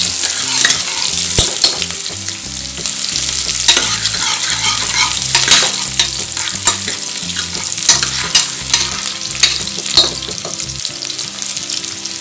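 Onions fry in a pan for a country chicken gravy, sizzling steadily and loudly with repeated sharp scraping stirs of a spatula throughout.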